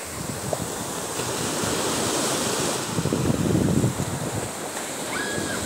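Surf washing onto Wambar Beach in Fak-Fak, West Papua, a steady broad rush of breaking waves with wind buffeting the microphone, swelling louder midway through.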